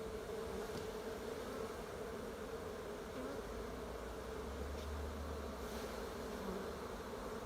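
Honeybees from an open-air hive on an eighth-floor balcony ceiling in Houston, Texas, drone in a dense, continuous buzz during the hive's removal, steady and fairly close throughout with no talk.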